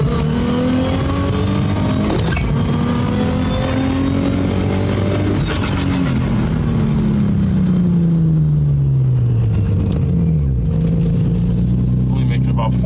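Infiniti G35 with a rear-mount turbo accelerating hard through third gear, heard from inside as a loud, rising engine drone that climbs in pitch, then drops after a shift and eases off, with someone talking over it.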